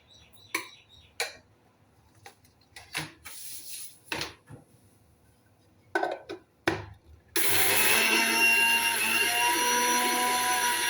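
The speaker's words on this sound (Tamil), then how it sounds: "தேங்காயை ஜீனியை மிக்சியில் சுற்றி சுற்றியாச்சு பவுடர் ஆயிடுச்சு" A kitchen mixer grinder whirs as it blends grated coconut and sugar into powder, a steady loud motor drone that starts abruptly after scattered clatter and handling knocks of the jar and lid.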